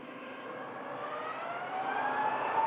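A Jet2 airliner at Manchester Airport bound for Fuerteventura, heard as a steady distant jet engine roar that builds slightly louder over a few seconds, with no talk.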